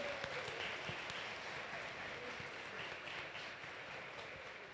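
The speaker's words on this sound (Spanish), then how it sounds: "¿Qué tal si le damos un aplauso al Señor?" A church family gathering applauds for the Lord, a fairly faint, sustained crowd clapping with a few sharper individual claps, gradually thinning toward the end.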